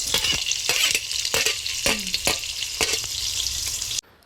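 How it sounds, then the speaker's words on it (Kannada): Long-sliced onions with green chillies and whole spices frying in oil for chicken biryani, a bright steady sizzle broken by rhythmic spatula scrapes and stirs, ending abruptly. "ಈಗ ಈರುಳ್ಳಿ ಎಲ್ಲ ಸ್ವಲ್ಪ ಚೆನ್ನಾಗಿ ಫ್ರೈ ಆಗಬೇಕು, ಬ್ರೌನ್ ಕಲರ್ ಆಗುವವರೆಗೂ"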